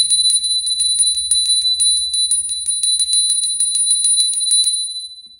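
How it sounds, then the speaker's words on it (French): A small bell rung rapidly and continuously, producing bright, evenly repeated tinkling strikes that are close and loud for about five seconds before ringing out. "On va juste faire teinter la petite cloche."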